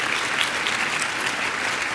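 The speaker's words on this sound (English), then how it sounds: "please give yourselves a round of applause for being here" A luncheon crowd at a foster-youth charity event breaks into loud, dense applause, a continuous wash of clapping from many hands sustained throughout with no pauses.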